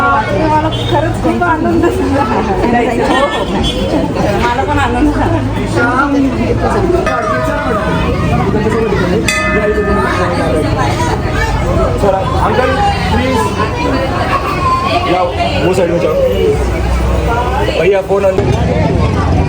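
Dense crowd chatter fills a temple on the evening of Mahashivratri, with many overlapping voices close and far forming a constant loud babble and a few brief metallic rings cutting through.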